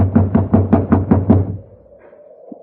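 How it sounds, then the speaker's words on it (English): Knocking on a locked door in a radio drama: a steady run of seven firm, evenly spaced knocks, close and loud, then a short quiet stretch with faint room noise. "You just have to keep knocking till he wakes up."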